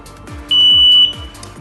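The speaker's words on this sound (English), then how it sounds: "After 5 seconds, you'll hear a long beep, which means the alarm is now ready." A Kovix KTL Series motorcycle lock alarm arming with a single long, steady high-pitched beep lasting about half a second, loud and close, over faint low background thumps.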